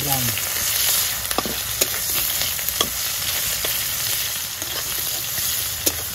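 Onions frying until reddish-brown in a pan during village-style noodle cooking, with a steady close sizzle and scattered sharp pops and spatula scrapes throughout.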